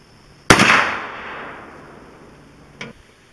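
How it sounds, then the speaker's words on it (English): A single sharp rifle shot from a 7.62x39 rifle firing Ukrainian surplus ammunition at a thick cast aluminum case, a loud crack with a decaying tail, followed by a faint second impact-like snap moments later, outdoors with no talk. "Shot number two with the Ukrainian surplus. This time we'll try to hit that heavy, thick pad on the side of the case."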